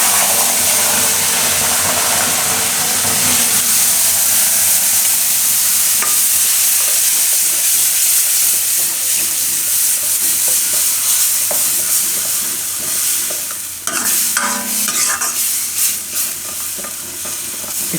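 Ground tomato gravy is poured into spices frying in a pan for raw banana kofta curry. A loud, steady sizzle carries on throughout, with scraping stir strokes and a burst of bubbling as the liquid hits the hot oil.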